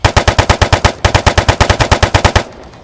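Automatic Kalashnikov rifle fire in an ARMA 3 mod: two rapid bursts of loud, sharp shots with bullet crack, a short break between them, ending abruptly in quiet.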